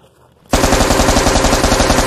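Rapid automatic gunfire bursts in abruptly after half a second of quiet and continues as a loud, sustained, dense rattle of shots to the end.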